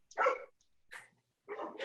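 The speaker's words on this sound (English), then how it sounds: "Sounds like your dog is getting in there too." A single dog barking in three sharp bursts with quiet gaps between them, fairly close and clear.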